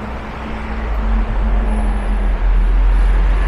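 A city bus in Mallorca traffic gives a loud, close, deep rumble that holds steady and swells slightly as it passes, with general street noise around it and no talking.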